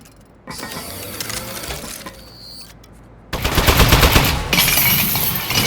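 Turret gunfire in the video game Aperture Desk Job, rapid mechanical rattling bursts that start after a brief quiet, pause, then return louder and denser as sustained automatic fire.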